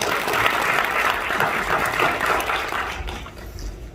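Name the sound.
audience applause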